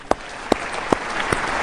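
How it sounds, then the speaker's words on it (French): An audience at an African Union summit applauds, dense steady clapping with a few sharper claps standing out, loud and close. "Je vous prie de l'applaudir"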